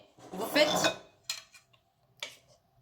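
Spoon mixing apple slices into crêpe batter in a bowl, giving a close scraping clatter followed by a few lighter clinks and taps, with no talk.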